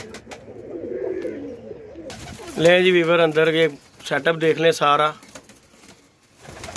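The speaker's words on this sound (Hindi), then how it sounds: "ये उड़ने वाले कबूतर हैं" Flying pigeons coo inside their breeding setup, where birds sit on eggs and chicks; soft, repeated cooing runs beneath someone talking close by.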